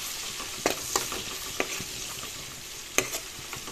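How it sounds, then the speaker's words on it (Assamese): Onion and bhut jolokia chili fry in oil with a soft, steady sizzle, broken by several sharp scrapes and clacks of stirring, close and fairly quiet, with no speech. "এতিয়া সেই একে তেলতে পিয়াজ আৰু জলকীয়া কিটা দি দিলো"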